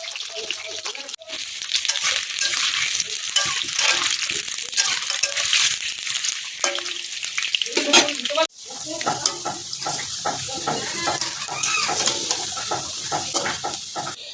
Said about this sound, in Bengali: কড়াইয়ে আমি তেল দিয়ে আলুগুলো ভালো করে ভেজে নিচ্ছি